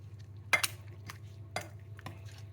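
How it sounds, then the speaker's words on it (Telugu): Steamed vegetables being mashed in a pot with a dal masher, giving faint, irregular metallic knocks and clinks against the pot, several separate taps in a quiet kitchen. "ఇప్పుడు పప్పు గుత్తితో బాగా మెత్తగా మెదిపేసి, మరీ మెత్తగా అవసరం లేదండి"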